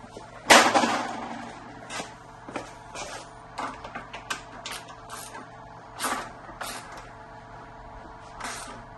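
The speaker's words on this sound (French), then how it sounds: "Avec le cliquet." A ratchet wrench tightens a link part on a Bluetran Lightning electric scooter. It makes a series of short, sharp clicks in irregular bursts, moderately close and fairly quiet, with no talking.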